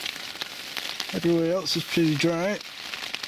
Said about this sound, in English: it's fair raining out